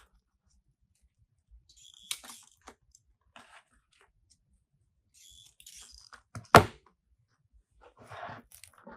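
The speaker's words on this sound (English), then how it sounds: "I may go ahead and snip these smaller so that I have more of them." Cutters snip through artificial freesia flower sprays in a quiet room, with a few isolated crisp clicks and snaps and one sharp, loud cut standing out near the end.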